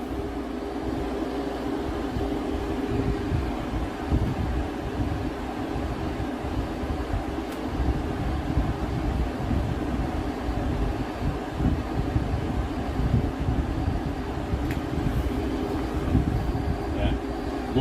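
A Frigidaire 5000 BTU window-mounted air conditioner blows cold air with a constant low whooshing hum and fan rumble, steady and fairly close, with a couple of faint ticks and no talking.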